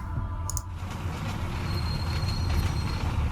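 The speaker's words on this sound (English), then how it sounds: "Getting the lovely train transition loading screen." A train rumbles through the loading screen of the video game Deus Ex: Mankind Divided, giving a steady low rolling drone with faint clicks and a thin high squeal, continuous and moderately loud with no voices.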